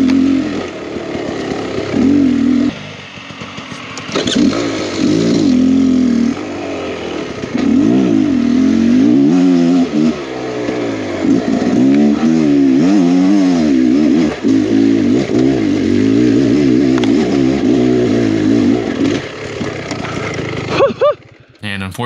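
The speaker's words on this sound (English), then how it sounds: "But this bike, you can lug it down and it just keeps chugging along up the hills" A Beta X Trainer 300 dirt bike climbing hills at a mine site runs loud and close, its engine lugging and chugging with rising and falling revs; a brief lull comes early and the engine cuts out near the end.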